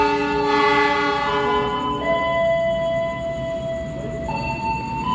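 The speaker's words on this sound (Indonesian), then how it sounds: "Lokomotif apa ini teman-teman? Oke, CC 206 1341 punya Bandung ya." A CC 206 diesel locomotive pulls into a station platform, sounding a loud, sustained multi-tone horn that shifts pitch and then trails off over a rumbling engine and rail noise.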